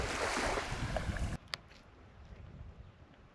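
Sea waves washing onto a beach on a sunny day, a broad wash of surf noise filling the first second and a half before dropping to a quieter, steady ambient hiss with a brief splash.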